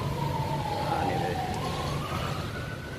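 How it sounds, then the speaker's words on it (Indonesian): An ambulance siren wails steadily at a distance across a wide town square in Malang, Indonesia, its long rising and falling tone sitting over a constant murmur of crowd and traffic. "Ambulans macam kat Malaysia je lah. Kejap-kejap bunyi."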